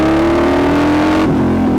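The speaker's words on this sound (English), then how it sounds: "I am sitting on a Harley Davidson night rod, completely custom built" A custom-built Harley-Davidson Night Rod motorcycle engine holds a loud, steady rev with a strong droning tone that sags slightly in pitch before cutting off abruptly.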